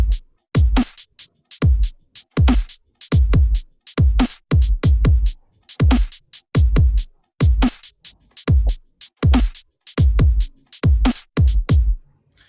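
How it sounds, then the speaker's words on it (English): Dubstep drum beat built in FL Studio, with punchy kick, snare and crisp hi-hats in a steady programmed pattern, loud and dry with no talking. "the kick and the snare, your drums sound a little like this."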